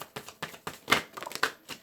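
Tarot cards are shuffled by hand at close range, a quick run of crisp flicks and soft slaps in an uneven rhythm over about two seconds, with no voices.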